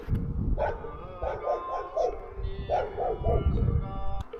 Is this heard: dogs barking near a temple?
yes